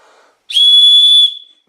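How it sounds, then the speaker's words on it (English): A Vargo titanium survival whistle is blown once, giving a single loud, piercing, steady tone of about three-quarters of a second close to the mic, after a faint murmur and followed by silence. "Now I am going to blow this."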